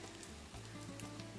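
Bacon grease sizzling and crackling in a hot pan while breakfast burrito filling fries, a close, steady crackle with faint low hum underneath and no talking.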